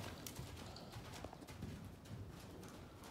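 A horse canters during a riding schooling session, its hoofbeats a soft, steady rhythmic thudding over continuous low ambient noise, with faint bird calls in the background.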